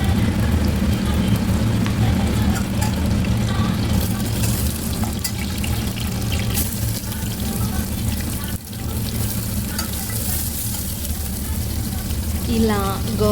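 Green chillies and onion frying in oil in a pan, a steady close sizzle and crackle running throughout with clattering stirring, nearly continuous at a constant level.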